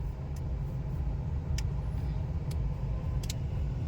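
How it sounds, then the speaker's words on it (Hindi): Road traffic in Jaipur, India: a steady low rumble of cars and engines passing, with a few faint high clicks or horn chirps over the continuous drone. "ये देखो फैमिली, जयपुर में ट्रैफिक"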